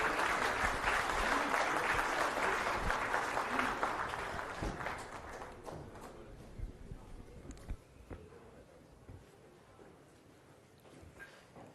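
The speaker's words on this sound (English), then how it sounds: "Big round of applause please." A big round of applause from the crowd at a government gathering on the Musi River development plan in Telangana. It starts as a dense, loud wash of clapping, then gradually fades and thins to scattered claps.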